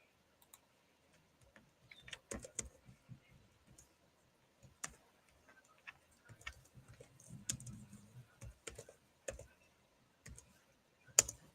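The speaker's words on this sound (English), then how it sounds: "so let me type it instead." Someone types on a computer keyboard while entering a forex trade, giving faint, sparse clicks and short irregular clusters of keystrokes in a quiet room.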